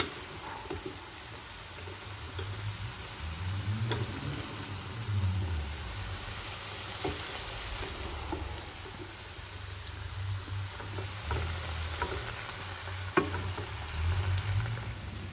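Chicken and vegetables sizzling in a pan for chicken Manchurian, with a low, steady frying hiss and occasional soft stirring clicks, fairly faint and continuous.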